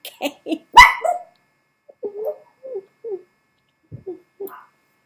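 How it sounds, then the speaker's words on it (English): A few short barks from a dog, then a string of softer, low woofs and grumbles spaced out with quiet gaps, fairly close. "Hey, quit barking."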